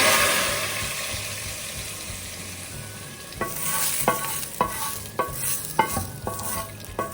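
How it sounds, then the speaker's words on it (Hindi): Hot oil tempering poured over a dish of goat trotters sizzles loudly at first and slowly settles, followed by a series of spoon clinks and stirring sounds against a pot. "इसमें तड़का डाल देना"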